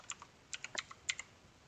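Typing on a computer keyboard while coding in Visual Studio: a quick, quiet burst of about ten crisp keystrokes in an uneven rhythm, with no talking.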